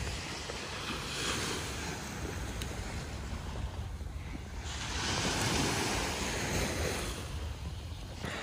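Surf rolls continuously onto Torremolinos beach in Malaga, Spain, a broad wash of breaking waves with gentle swells and some wind buffeting the microphone.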